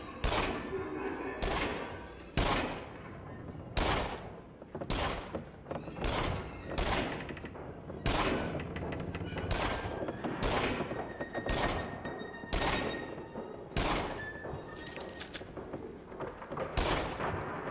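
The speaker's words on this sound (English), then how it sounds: "You want to keep shooting the targets as often as you can" Repeated gunshots in the Until Dawn: Rush of Blood shooting game, a steady series of sharp loud blasts roughly every second over a continuous noisy backdrop, each crack decaying quickly.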